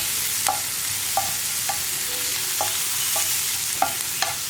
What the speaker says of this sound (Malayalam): ഇതിലേക്ക് നമ്മുടെ മഞ്ഞൾപ്പൊടി 1/2 ടീസ്പൂൺ ഇത്രയും ചേർത്ത് നന്നായിട്ടൊന്ന് ഇളക്കി മിക്സ് ചെയ്തെടുക്കുക